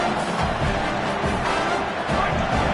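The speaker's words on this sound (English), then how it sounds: "Decibels rising as the crowd gets behind this defense on 3rd down." Stadium crowd in the College Football 25 game roaring for the defense on third down, a steady broad wash of crowd noise holding loud for the whole stretch.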